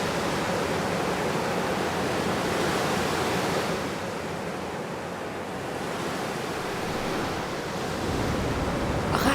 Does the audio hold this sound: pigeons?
no